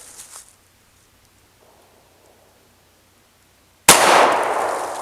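A single sharp gunshot from a .45 pistol firing 165-grain rounds at 5 meters strikes a WARMAG M88 steel PASGT-style ballistic helmet, a loud clanging crack with a decaying ring after near silence.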